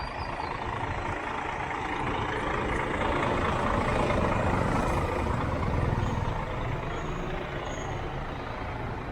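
A large coach bus idles and rumbles loudly and steadily nearby, with a continuous engine drone and a brief hiss of air brakes partway through, at a roadside stop on an overland route from Bangkok toward Cambodia.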